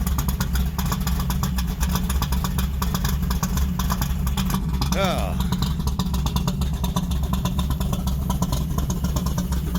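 A Hemi Charger's engine idles steadily while warming up, with a brief rising rev partway through and faint clatter over the constant rumble.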